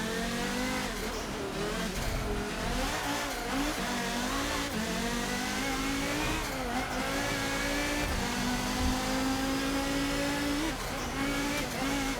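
Race cars in the Forza Motorsport 7 video game roar steadily, with a Mustang among them and tyre squeal as they fight over position, engines rising and falling through gear changes at a continuous moderate level with no talk.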